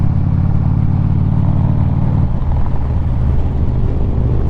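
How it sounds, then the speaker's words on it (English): Harley-Davidson Street Glide Special in Twisted Cherry with a Milwaukee 8 engine, its deep steady rumble loud and close throughout, the low throb shifting slightly midway as the motor note changes. "that's Daddy Matt right there on the Twisted Cherry Street Glide Special with the Milwaukee 8 motor."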